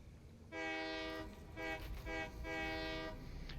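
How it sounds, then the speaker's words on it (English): A train horn sounds in a video game, a loud multi-tone chord blown as one long blast followed by shorter blasts in a rough pattern, alone without speech. "how was the train sounds, horn sound?"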